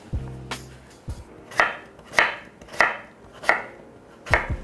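Five sharp knife strikes through potatoes against a cutting board, cutting them into bite-sized pieces, spaced about half a second apart, close and crisp with a few softer knocks at the start.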